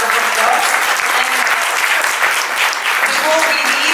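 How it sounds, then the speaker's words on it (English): Audience applause after an ikebana stage talk, steady dense clapping that fills the whole stretch at full volume, with faint voices mixed underneath. "please give her a round of applause"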